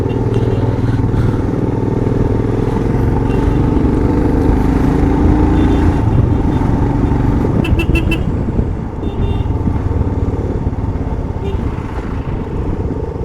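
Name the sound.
heavy road traffic with motorcycles in Kodaikanal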